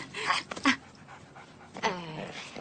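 A dog whimpers and yips up close in a few short, high-pitched bursts separated by brief pauses, with no voices.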